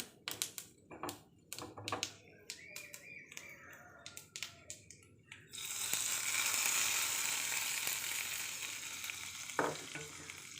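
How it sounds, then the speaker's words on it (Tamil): Mustard seeds, dried red chillies, chana dal and urad dal spluttering in hot oil for a keerai masiyal tempering: sharp, irregular popping crackles at first, then a continuous loud sizzle with a single clatter near the end. "கடுகு நல்லா பொரிஞ்சதும் காஞ்ச மிளகா கடலைப்பருப்பு உளுந்து பருப்பு காஞ்ச மிளகா ரெண்டு ஜீரம் கடுகு நல்லா பொரிஞ்சிருச்சு"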